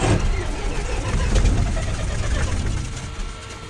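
A Cessna airplane engine cranks and catches, a rough, churning engine noise that builds and then settles into a steady run, with people talking over it.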